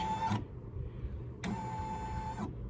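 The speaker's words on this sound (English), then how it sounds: "So let's see where it's going to stitch at." An embroidery machine stitches a strutting rooster design. It makes two bursts of busy mechanical whirring and rattling, one short and one about a second long, with a low steady hum in between.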